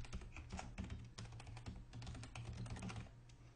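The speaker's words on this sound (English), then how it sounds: "In there, you just type your URL." A URL is typed on a computer keyboard with a steady, close run of light key clicks over a low background hum, with no talking.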